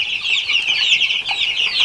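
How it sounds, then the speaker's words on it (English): Eighteen-day-old chickens in a farm coop, many overlapping high peeps and chirps forming a constant close chatter for a couple of seconds, with no voices over them. "The chickens are 18 days old today"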